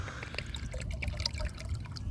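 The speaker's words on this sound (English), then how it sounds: "I'm going to try to pour this with one hand." Compost tea made with worm castings is poured one-handed from a water jug holding 2.5 to 3 gallons, a soft, close trickle and pour of liquid running steadily.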